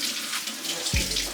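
Running tap water splashes steadily in a kitchen sink while a scallion is rinsed under it, with a sudden low thump near the end.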